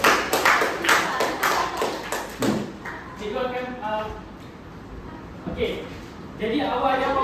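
A class of students claps in a quick burst of sharp, close hand claps, and the clapping soon gives way to scattered taps and voices talking.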